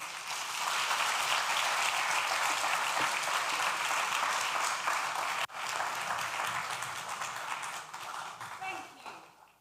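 Sustained audience applause at an agribusiness entrepreneurship summit launch, dense steady clapping filling the room for about nine seconds, briefly dipping midway and thinning toward the end.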